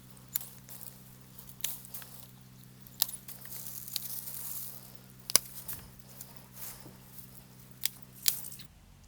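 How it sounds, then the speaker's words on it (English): Pruners snip dried hydrangea flower heads during a spring flower bed cleanup, making a series of sharp, isolated clicks spread irregularly over a faint steady hum, close and with no talk. "I'm just going to snip them off"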